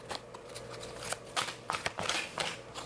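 Tarot cards are shuffled by hand in a quiet room, giving a run of soft riffling bursts and papery flutters over about three seconds, close to the listener with no talking.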